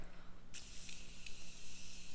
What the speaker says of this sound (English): Like, look at that. Just one continuous spray.